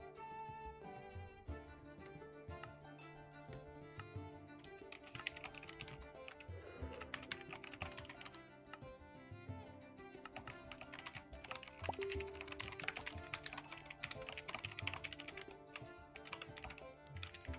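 Rapid, continuous clicking of computer keyboard keys, close and fairly quiet, with uneven bursts of keystrokes over a faint background hum.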